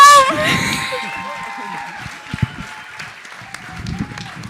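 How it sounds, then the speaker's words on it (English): An audience at a live talk in Stockholm claps and cheers as a loud ringing tone fades out, with voices calling over the scattered applause. "Give it up, a massive round of applause."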